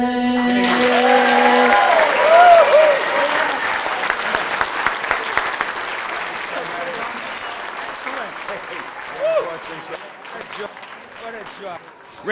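Sustained applause from an audience at a youth sports volunteers recognition breakfast, dense clapping filling most of the stretch and thinning toward the end, with a voice speaking over it at the start.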